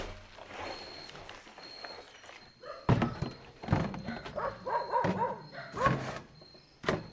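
Dogs barking repeatedly out on a rural farm, several sharp woofs in irregular bursts along with thuds and knocks, fairly close over faint background noise.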